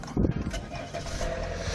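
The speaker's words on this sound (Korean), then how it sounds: "제가 바로 엔진 시동 한번 걸어보도록 하겠습니다" A diesel Sportage SUV engine cranks and catches, a short loud starting burst that settles into a steady low idle rumble.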